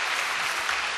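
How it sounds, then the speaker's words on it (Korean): Church congregation in a Korean service breaking into applause to encourage camp teachers, a full, even roar of many hands clapping throughout, close and unbroken. "우리 박수로 그분들 격려하고"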